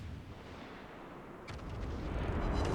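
Naval guns firing a salvo in World of Warships: Legends, heard as a deep, rumbling boom that builds and swells over a low, steady battle din, with a burst of crackle midway through.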